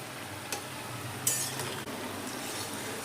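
Suji and potato finger fries fry in a pan of oil with a steady close sizzle, broken by a few light metallic clinks and scrapes from a spatula.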